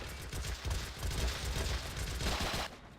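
Sustained machine gun fire from several gunners in a strategy video game, a dense rattling barrage that runs almost unbroken for a few seconds before dropping off near the end.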